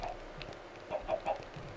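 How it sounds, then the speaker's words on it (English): A few soft chicken clucks in a video game, fairly faint, over a quiet ambient background. "Some chickens over here."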